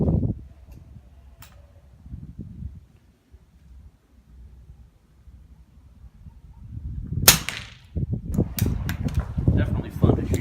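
A Handi rifle SBR fires subsonic loads outdoors with a quiet, short crack near the middle. Softer clicks and handling noise come before and after it, and people talk briefly.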